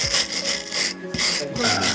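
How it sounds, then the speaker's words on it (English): A metal wire brush scrapes burnt residue off an oven surface in quick back-and-forth strokes, a raspy, gritty scratching repeated several times at close range. "So I will start to remove the burnt parts with this brush here. It's a metal brush"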